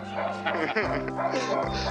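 In a 1970s San Francisco street drama, a dog gives short yips and high whimpers mixed closely with voices talking over a loud, full background.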